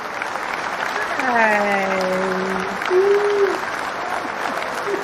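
A crowd gives moderate applause to welcome a speaker onto a stage at a business event, while a voice with sliding tones rises over the clapping and a brief greeting is spoken.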